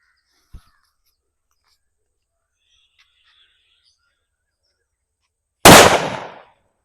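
A single four-inch gold country firecracker bursts with one sharp, loud blast late in the clip, decaying quickly, preceded by a faint click and near silence.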